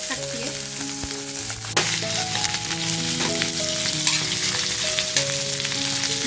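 Oil heated well on a gas stove sizzles loudly and continuously in a pan, a close dense frying hiss that jumps louder partway through, with a faint tonal hum beneath and no talking.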